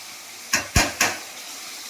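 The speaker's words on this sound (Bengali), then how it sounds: "আর এখানে মাছ ভাজা হচ্ছে।" Fish frying in hot oil: a steady soft sizzle broken by three sharp crackling pops in quick succession, heard close up with no talking.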